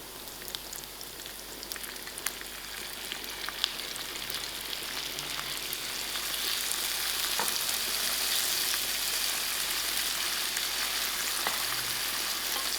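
Chopped tomatoes fry in a hot pan for a quick tuna pasta, giving a steady, close sizzling hiss with scattered pops and crackles that grows slightly louder and denser partway through.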